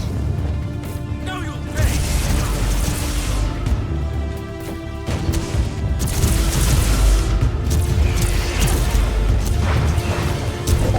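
Mines going off in the Warhammer 40,000: Inquisitor – Martyr video game, a dense run of heavy booms and crashing blasts with thick low rumble that keeps up nearly throughout, with brief dips.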